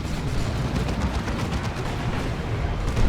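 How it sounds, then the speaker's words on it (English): A multi-melter fires in Dawn of War 2 as a dense, roaring blast of noise that stays loud and continuous for about three seconds, mixed with rumbling battlefield booms and crackle. "It's like a giant laser shotgun kind of thing."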